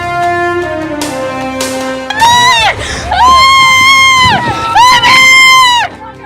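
Women screaming in terror as a dumper truck tries to bury them alive under a heap of gravel in Rewa, Madhya Pradesh, loud sustained wailing cries rising and breaking, with shouting voices amid outdoor commotion.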